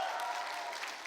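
At a Victoria University graduation ceremony in August 2018, a hall audience gives a brief burst of steady, dense applause.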